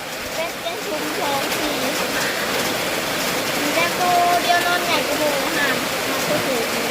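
Rain falls steadily in a steady wash of drops on surfaces in Thailand, with people talking over it throughout.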